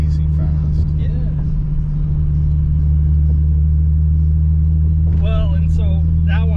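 Small drift car with a two-stroke engine and centrifugal clutch, a loud constant droning buzz from inside the car during a ride, with people talking over it.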